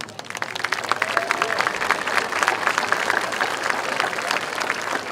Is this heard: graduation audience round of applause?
yes